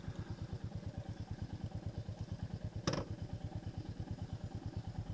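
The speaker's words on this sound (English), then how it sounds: "I must have had the engine still running." A nearby engine idles with a steady, rapid low chugging, broken once by a brief knock or thud partway through.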